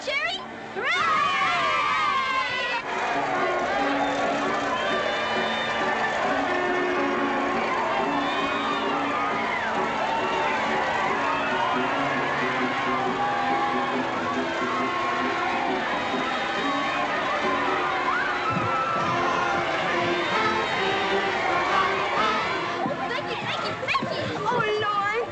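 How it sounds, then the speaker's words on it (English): A large excited crowd cheering and shouting continuously, with children's voices among them and people speaking over the din, from a 1939 film. "Do you hear the cheering?"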